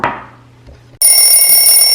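A kitchen timer alarm rings out loud and steady after a baking wait, its bright sustained ringing starting abruptly halfway through, following a stretch of quieter kitchen noise.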